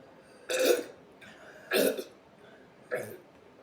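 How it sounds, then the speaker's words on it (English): Three wet, throaty burps after drinking a sparkling hydration drink, each short and fairly close, spaced about a second apart with quiet between them. "You guys love my wet burps."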